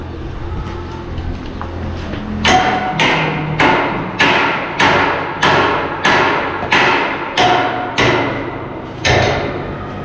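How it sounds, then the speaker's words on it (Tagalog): A hammer strikes about a dozen times in an even rhythm, each blow a sharp, loud knock close by, preceded by a few seconds of quieter background noise. "Martilyo tayo."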